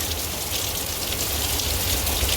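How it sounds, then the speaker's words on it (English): Steady, heavy rain pouring down, a dense hiss of drops hitting surfaces close by, continuous and fairly loud with no voices. "have rain, and not just like just little dribbles. Like, we have rain."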